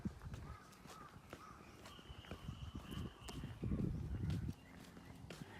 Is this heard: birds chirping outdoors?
yes